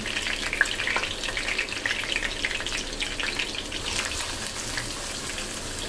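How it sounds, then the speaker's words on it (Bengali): Chopped onions sizzle in hot oil with green cardamom for a spicy broiler chicken curry, giving a steady, close crackling hiss with small pops that runs throughout, with no talking. "এখন পেঁয়াজটাকে লালচে করে ভেজে নেব।"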